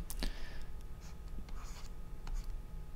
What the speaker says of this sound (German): Ich zeichne das mal gleich auch extra in einer anderen Farbe.